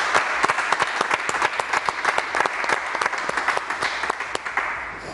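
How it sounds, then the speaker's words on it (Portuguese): Loud audience applause for the winner of a 2024 bodybuilding competition, with close, dense clapping that is steady and energetic for the whole five seconds. "Uma salva de palmas agora sim."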